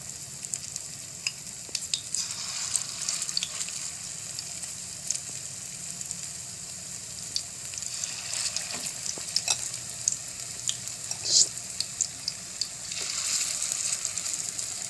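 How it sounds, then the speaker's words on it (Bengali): Mashed potato fritters frying in hot oil, a soft continuous sizzle with scattered crackles and pops, fairly quiet and steady. "তেলটা গরম হয়ে গেছে। এখন দেখুন, মেখে রেখেছিলাম যে আলু থেতো করা, সেই আলুটা থেকে আমি ছোট ছোট বড়ার আকারে তেলের মধ্যে দিয়ে দেব।"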